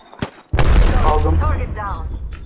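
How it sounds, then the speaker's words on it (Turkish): A thrown bomb goes off in a video game as a sudden heavy boom with a rolling rumble after a brief quiet moment, and a voice talks over the decaying blast. "Bomba attılar"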